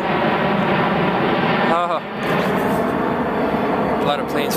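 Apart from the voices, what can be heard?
airplane flying overhead near a base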